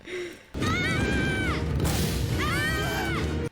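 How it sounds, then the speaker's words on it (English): Two identical bursts of high, shrill screaming from animated characters in an episode of The Dragon Prince, the second a repeat of the first, over a loud, dense rumbling background with a brief gasp at the start. "Did they just use the same screams twice in a row?"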